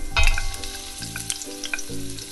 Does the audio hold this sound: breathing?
no